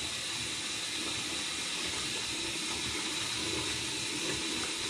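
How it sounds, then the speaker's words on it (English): Water runs from a bathroom tap in a steady, even hiss that fills the whole stretch with no breaks and no talking. "We'll turn on the water here."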